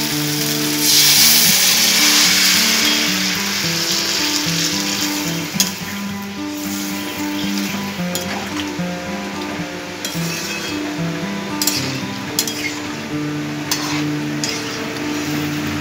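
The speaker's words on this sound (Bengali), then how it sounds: "এরপর দিয়ে দিচ্ছি পরিমাণ মতো জল।" Steady frying sizzle fills the clip, with clinks and scraping from stirring in a pan; a hiss of water poured onto spiced oil for a fish roe curry swells early on.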